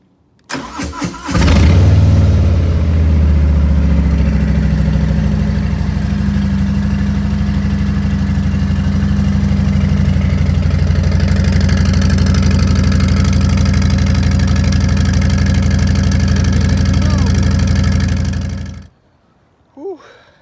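A 2021 Harley-Davidson Fatboy motorcycle cranks over and catches, then settles into a loud, steady, close idle for about fifteen seconds before cutting off, with no talking.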